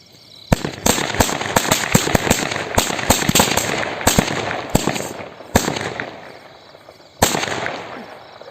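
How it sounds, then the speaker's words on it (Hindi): Large bijli bomb firecrackers and crackers bursting at Diwali, a rapid irregular string of loud, sharp bangs near by, some spaced further apart toward the end. "तो इस तरह के कुछ बड़े बड़े बिजली बम हैं, इनको जलाते हैं भैया, देखते कैसी जलती है।"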